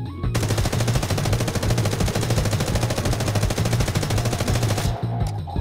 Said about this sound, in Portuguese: Eu só vou apertar o botão de tiro.